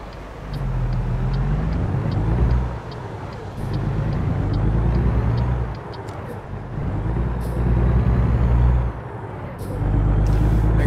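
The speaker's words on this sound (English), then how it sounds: "Let that bus go by." A bus rolling past a truck on an interstate in American Truck Simulator, with a loud low engine drone that swells and recedes in repeated waves alongside hissing brake-like bursts, close and steady.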